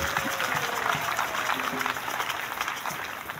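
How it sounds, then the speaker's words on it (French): A congregation at an ordination mass claps steadily in a church, a dense sustained patter that holds evenly from start to finish. "On applaudit pour Jésus"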